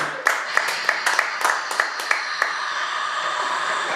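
A small audience at an artist panel claps for a singer and songwriter. About eight sharp, distinct claps come at a steady pace and then fade into quiet room murmur.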